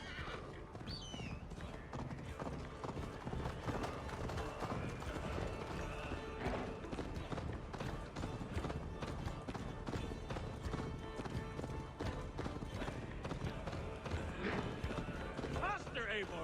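A galloping horse in Assassin's Creed Valhalla gives a steady, rapid clip-clop of hooves that runs throughout, with occasional whinnies, set in a dense mix of other game sound and speaking voices.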